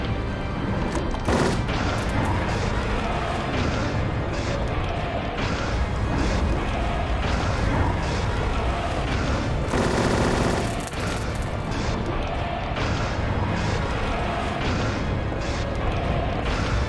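Dense, continuous gunfire and explosions in Silent Hill 3, loud and relentless for the whole stretch with rapid bursts layered over a heavy rumbling backdrop.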